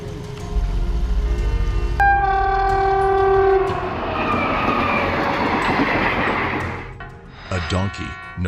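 A train rushes past on the tracks, its loud horn blaring in sustained tones over a rumbling roar and wheel clatter that swells, fades and returns with further horn blasts.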